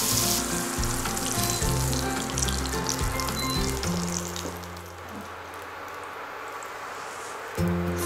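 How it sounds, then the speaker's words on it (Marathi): Paneer cubes fry in hot oil in a pan with a loud, steady close sizzle and crackle, easing slightly midway as they are turned gently, with no talking. "पनीर फ्राय करताना खूप सावकाशपणे हाताळायचं आहे कारण आपल्याला हे चौकोनी तुकडे तुटू द्यायचे नाहीयेत।"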